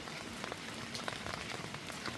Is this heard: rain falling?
yes